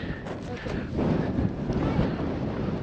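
Strong wind gusting across the microphone outdoors at about 4000 m altitude on Aconcagua, a steady broadband rush that swells after the first second, with people talking faintly underneath.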